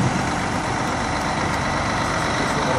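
A fire engine truck idles with a steady, dense low rumble and broadband engine noise that holds an even level the whole time, close and continuous, with no voices.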